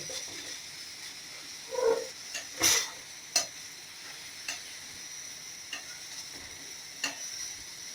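Cauliflower varuval being stirred in a frying pan, with a soft continuous sizzle and a few sharp ticks of a spoon scraping the pan, the stirring quiet and close.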